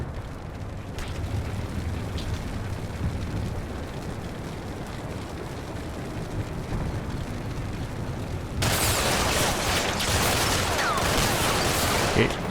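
Gunfire and battle noise in Combat Mission: Cold War, a dense continuous rumble of shots that swells abruptly louder and brighter for the last few seconds.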